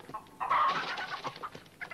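Chickens cluck at feeding time, a faint flurry of soft, overlapping clucks and short bird calls in quick, irregular bursts.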